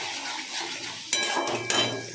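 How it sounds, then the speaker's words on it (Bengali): Ground turmeric, coriander, cumin and Kashmiri chilli sauté in a pan for a vegetarian ghugni, with a soft steady sizzle and two clear knocks of a utensil against the pan. "এবার মশলাটাকে আমি কষাবো।"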